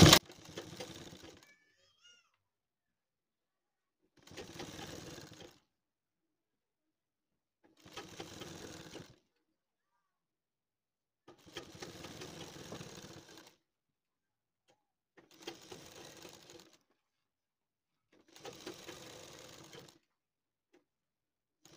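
A sewing machine stitches piping onto the neckline of a kurti in six separate short bursts of rapid close whirring, each lasting about two seconds, with silent pauses between them.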